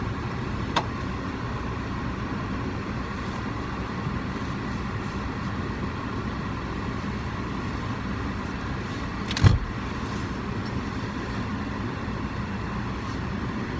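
Steady car-interior road rumble from a moving vehicle, a continuous low drone with one brief louder knock partway through and no talking.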